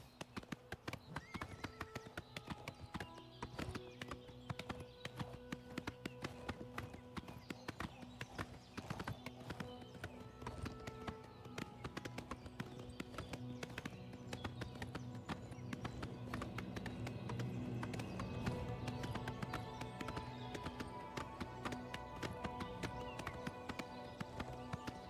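Horse hooves clip-clop in a steady rhythm in Oblivion Remastered, with an occasional whinny, fairly quiet and continuous, no voices.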